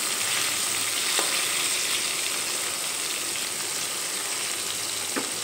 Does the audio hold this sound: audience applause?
no